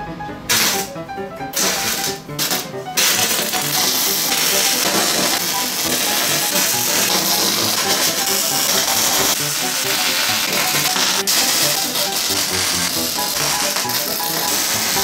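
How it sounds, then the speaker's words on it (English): Welding steel slats for a plasma cutting water table, a loud, continuous crackling hiss that starts and stops briefly at first before running steadily, close by, with no talking. "so we'll weld it up, see what it looks like."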